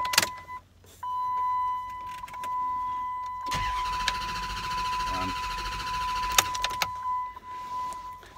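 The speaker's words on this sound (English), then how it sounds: "Trying to start it, the key sets in and it just keeps cranking because it's on a relay" A 2008 Chrysler Aspen that won't start has its key turned and the engine cranks continuously without catching, loud and close inside the vehicle, beginning after a few clicks and a steady electrical whine, with a person talking throughout.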